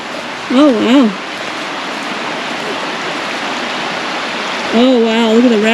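Rushing creek water tumbles over small rapids and little waterfalls at a nature preserve, a steady broadband wash close by, with brief birdsong-like whistles near the start and end.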